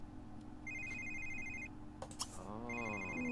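A telephone rings in The Sims 3 life-simulation game, two steady electronic ring bursts with a pause between them, clear over low background music and game sounds, with a brief voice-like tone near the end.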